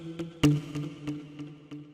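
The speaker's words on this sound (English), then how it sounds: "if you go to plugged and choose the second muted guitar." A muted guitar patch from the Nexus plugin plays a soft, short, plucked rhythmic pattern of damped notes with a quick repeating pulse, quiet and close.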